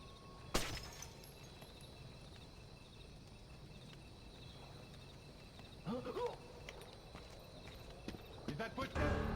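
A few faint footsteps in the stealth game Splinter Cell: Pandora Tomorrow, soft scattered thuds under a steady low ambient hum, with a brief sharp impact near the start and a player talking over it.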